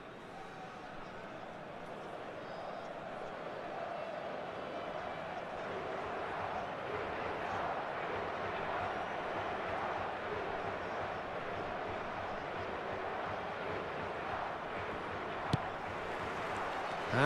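A stadium crowd in the eFootball video game roars as a steady, broad wash of cheering that swells gently, with a commentator's voice talking over it.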